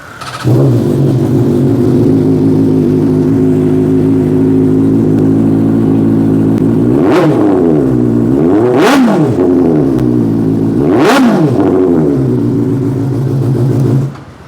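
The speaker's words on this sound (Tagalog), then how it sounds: "para marinig nyo rin yung actual pagka nagpalit ng tambucho" A loud, close Kove 800 motorcycle with a full aftermarket exhaust idles with a deep rumble, then revs sharply three times, each rev rising and falling back to idle.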